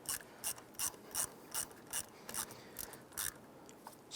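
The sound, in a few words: ratchet tightening battery terminal bolt, Ford Explorer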